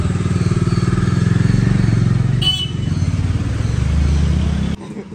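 A Bajaj Dominar motorcycle rides along with a steady throbbing engine, close and loud, briefly dipping midway before the note drops off near the end; a voice speaks over it.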